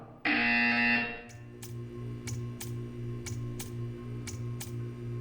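A loud, harsh buzzer sounds for about a second in the video game Portal 2. A run of sharp, evenly spaced ticks follows over a low mechanical hum, with no talk.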